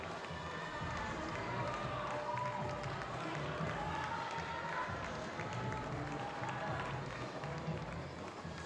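Crowd at a youth bouldering world championship in Innsbruck, with a steady, dense wash of cheering and applause from a large audience, continuous and fairly distant, with voices blended in throughout.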